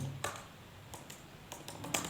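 Fingers type git commands on a computer keyboard, a few close, quiet key clicks in small clusters with pauses between.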